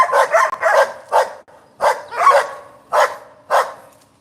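Several dogs barking outdoors in sharp bursts, about eight loud barks in irregular pairs and singles, close by, with quiet gaps between and no talking.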